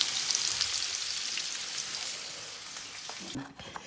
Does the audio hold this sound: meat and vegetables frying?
yes